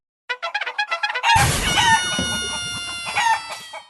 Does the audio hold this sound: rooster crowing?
yes